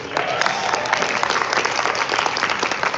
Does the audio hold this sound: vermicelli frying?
no